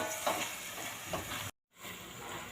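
Masala with garam masala and turmeric sautéing in a pan, giving a steady close sizzle with light stirring scrapes, broken by a brief silent gap before the sizzle returns.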